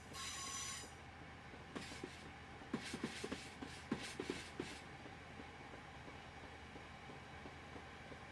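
Stone aggregate freight wagons roll along the track in Train Simulator Classic, with a burst of squealing wheels at the start, then a run of rhythmic clickety-clack wheel beats over a steady rumble, and no talking.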